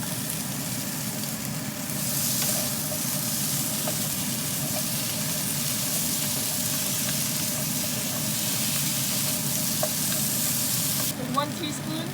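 Potato pieces frying in a pan with onion, garlic and ginger, a loud continuous sizzle with occasional stirring scrapes and clinks close by.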